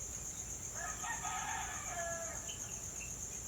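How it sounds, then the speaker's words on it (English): A rooster crows at dawn, one drawn-out cock-a-doodle-doo rising out of quiet rural air at a moderate distance, followed by a few faint short clucks, with a steady high insect or bird drone in the background and no talk. "Roosters in the background."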